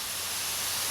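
A spray gun hisses steadily as it sprays wood finish onto the top of a piece of furniture. The hiss is a continuous, airy sound, brief and fairly quiet, with no other sound around it.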